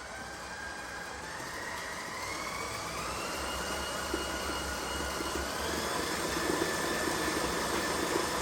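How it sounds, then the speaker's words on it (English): An electric mixer runs on high through rose waffle batter, a steady loud whirring drone with a rising motor pitch that holds throughout, close by and alone. "You're going to mix on high for a few moments."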